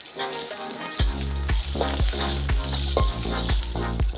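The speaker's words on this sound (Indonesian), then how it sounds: "Jadi pertama-tama bahan yang ditumis ada jahe, terus lengkuas, terus ada serai, daun salam, sama daun jeruk." Ginger, galangal, lemongrass, bay leaves and lime leaves sauté loudly in a hot pan, a strong continuous sizzle punctuated by regular scraping stirs about every half second.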